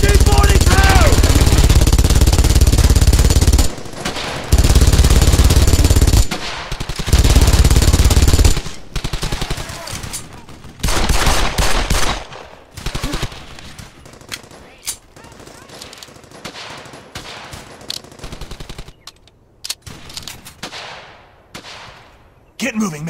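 MG-42 machine gun fire in the Brothers in Arms World War II shooter: long, very loud continuous bursts, then shorter, choppier volleys and scattered shots mixed with other gunfire, while voices shout over the battle.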